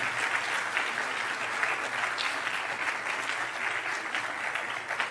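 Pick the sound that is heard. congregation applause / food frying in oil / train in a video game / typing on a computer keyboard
congregation applause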